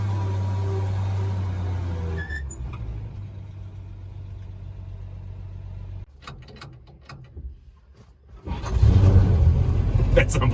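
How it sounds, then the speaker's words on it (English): A restored car that had not run in about ten years, driving under its own power: a steady low engine drone that shifts and rises into a louder, rougher roar near the end, heard up close. "It's an awesome feeling to finally get to drive it for the first time and feel it move under its own power"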